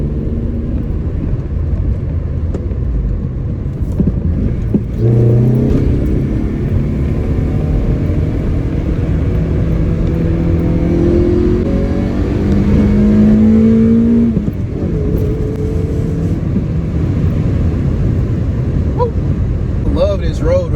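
An Acura RSX with a swapped K24 engine revs hard on a winding back road, its engine note climbing and falling through repeated rising pulls over a constant loud driving roar.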